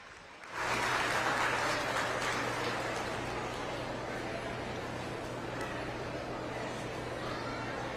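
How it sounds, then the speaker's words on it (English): A crowd applauds steadily for children at a youth fair swine show, the clapping swelling in after a brief quiet start and holding loud and dense, with a low steady hum underneath. "let's get these kids a nice round of applause as we send them back to the barn"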